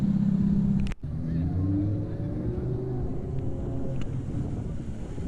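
A Ferrari 430 Spider's engine roars past nearby at a car show, a loud steady rumble that swells and fades under a busy roadside background.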